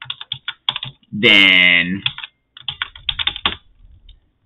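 Rapid clicks of a computer keyboard as someone types code in the Emacs editor's C mode, in quick bursts that stop and start, with a brief spoken word in the middle.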